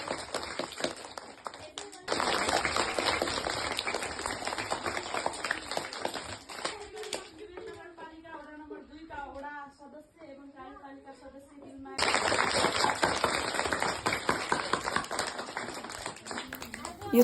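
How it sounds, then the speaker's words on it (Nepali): Schoolchildren at a school event clap together in dense, rhythmic bursts, loud and close, with a quieter pause in the middle where voices carry before the clapping resumes just as strongly. "यो भाइ बहिनीहरूको थपडी बजाएको स्टाइल चाहिँ सुन्नु होला है हजुरहरू।"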